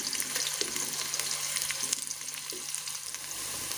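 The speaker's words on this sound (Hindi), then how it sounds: "और अब प्याज को मैं हल्का हल्का लाल कर लूँगी, लाइट ब्राउन कर लूँगी इसे मैं।" Chopped onions fry in a pan as they turn light brown, a steady close sizzle with soft stirring scrapes throughout and no voices.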